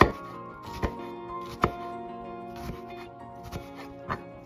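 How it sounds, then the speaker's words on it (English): A knife slices an onion on a cutting board in a few distinct, crisp knocks spaced about a second apart, close and clear over a quiet background, with no talking. "Then slice the top of the onion, leaving the root intact."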